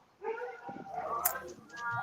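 Several dogs yip and bark in short bursts at middle distance, loud and clustered, while people talk in the foreground during an outdoor chat.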